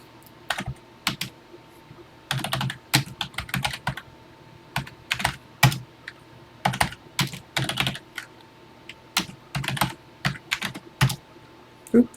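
Keys clatter on a TI-99/4A home computer keyboard while a BASIC program is typed, close and crisp, in uneven bursts of rapid keystrokes separated by short pauses.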